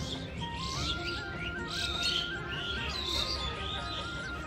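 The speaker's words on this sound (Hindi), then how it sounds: "पक्षियों की चहचहाने की आवाज़ बहुत प्यारी आ रही है" Several birds chirp and tweet outdoors in pleasant morning weather, a continuous layer of overlapping calls at moderate distance with no talk.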